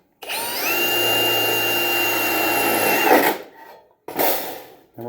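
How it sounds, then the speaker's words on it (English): A power drill boring through metal runs at a high, steady whine for about three seconds, then slows and stops. A second short burst follows after a brief pause, loud and close, with no talking. "we're going to drill right through it"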